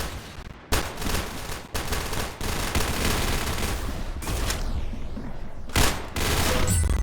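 Rapid automatic gunfire in the Roblox game Arsenal comes in loud sustained bursts, broken by short gaps and a few sharper single shots, with almost no talking.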